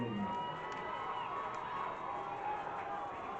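A crowd at Bremerton Memorial Stadium roars during a high school football game, a sustained distant wash of cheering and shouting voices that stays steady for the whole stretch.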